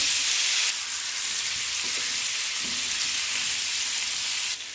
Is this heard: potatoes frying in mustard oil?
yes